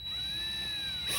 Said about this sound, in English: go ahead and drill your holes into your dash